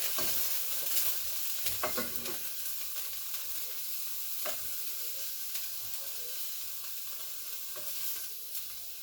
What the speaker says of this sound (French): Ensuite, on va remuer nos petites boulettes.